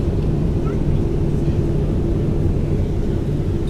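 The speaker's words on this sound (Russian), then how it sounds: "Сейчас ждем команду разрешения взлета и будем взлетать." An airliner sits on the ground at Tbilisi airport waiting for takeoff clearance, its engines idling in a loud, steady low rumble that fills the cabin without letting up.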